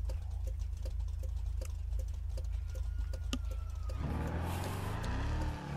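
Police siren in GTA 5 played on a FiveM Romania roleplay server, a rising wail sweeping in at the end over steady car engine rumble and rhythmic ticking.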